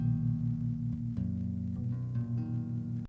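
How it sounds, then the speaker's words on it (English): A major chord for pop played on electric bass, notes ringing together at moderate volume with a few restrikes and shifting tones, close and alone with no voices. "That's the sound of a pop chord"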